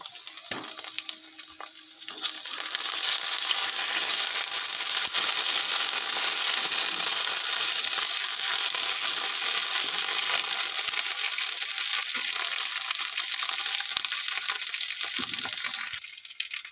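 Ginger garlic paste and green chilli sizzle in a pan with onion and potato for a mushroom masala, a steady close-up hiss of frying that runs unbroken for about fifteen seconds with no talking.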